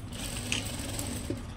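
A quiet, steady mechanical whir of a sewing machine stitching a boat neck blouse, with faint clicking and a low continuous hum throughout.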